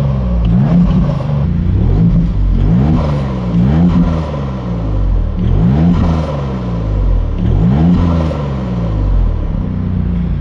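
A Maserati MC20 Cielo's turbocharged engine in Corsa mode revs repeatedly on a mountain road, rising and falling in loud, close sweeps about every two seconds with a deep rumbling exhaust.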